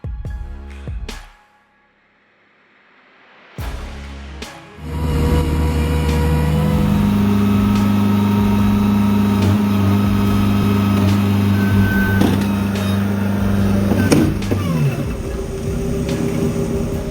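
Excavator engine starts up after a brief silence and runs steadily with a loud, close diesel drone and rattling, continuing without letup to the end.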